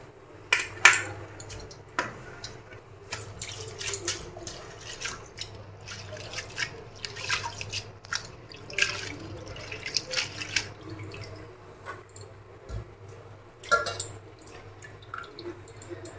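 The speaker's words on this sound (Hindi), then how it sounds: "साग चुनने के बाद इसे अच्छी तरह से ज़रूर धोएं" Brahmi greens being rinsed in water in a home kitchen, with irregular splashes, drips and trickling, plus occasional light clinks of a vessel, close and fairly quiet with a low hum beneath.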